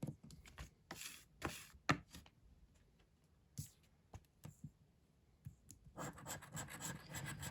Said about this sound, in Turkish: Sıradaki kartımızı kazıyorum.